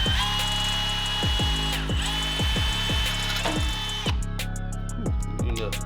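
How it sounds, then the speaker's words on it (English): Small drill bit boring through a stainless steel exhaust pipe for a Predator 670cc engine, a steady close whine running throughout with a harmonic hum and a series of sharp clicks, rising into brighter scraping near the end. "So I'm going to start with a small drill bit"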